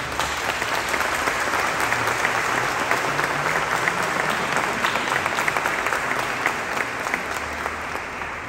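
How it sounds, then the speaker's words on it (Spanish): Loud, sustained applause from a congregation filling a cathedral, dense crowd clapping that holds steady and reverberant throughout, with no voices over it. "Un fuerte aplauso."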